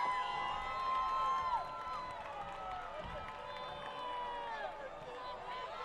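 Two football crowds at a CIF-SS high school game, Arcadia at La Salle, cheering and shouting at once in a steady, dense roar with whistling and chanting voices over it.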